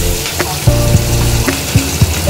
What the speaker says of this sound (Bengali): এখন মাছগুলো ভালো করে ভেজে নিচ্ছি